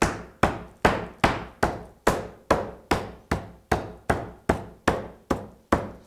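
Chicken is pounded thin with a meat mallet to tenderize it: loud, evenly spaced thuds, about two per second, striking close by with no voices.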